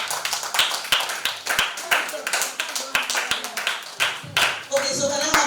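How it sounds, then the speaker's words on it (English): A group of children claps unevenly at a tech event for kids and teens, the sharp hand claps ragged and clustered, with voices mixed in near the end. "A round of applause, please"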